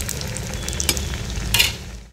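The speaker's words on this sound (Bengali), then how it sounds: "একটু বেশ ডুবো তেলে ভাজলে এটা ভালো হবে আর তেলটা যেন বেশ ভালো মতন গরম হয়ে থাকে" Food deep-frying in hot oil, a close, steady crackling sizzle with brief stirring clatters and a louder burst near the end, no voices.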